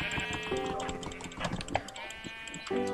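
Sheep bleating in Minecraft, a few short nasal bleats close by, mixed with faint keyboard clicks and game noise.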